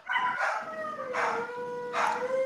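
Several dogs howling and barking together indoors, a sustained wavering howl with overlapping yips and bursts of barking, fairly close and continuous.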